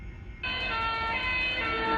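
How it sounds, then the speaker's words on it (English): A UK fire truck siren passes close by, its wailing tone rising in sharply after a brief lull, then sounding loud and steady with strong harmonics as the vehicle zooms past. "you can hear the change in pitch that occurred when the fire truck went zooming by us"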